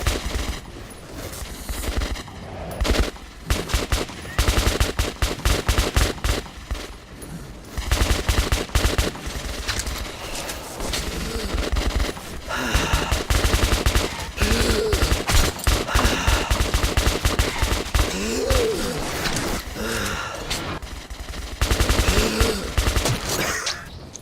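Gunfire in the shooter Metro 2033 Redux: close, loud bursts of rapid shots and repeated volleys crackle in uneven clusters, with brief lulls between them.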